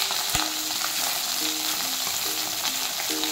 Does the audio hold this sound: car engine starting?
no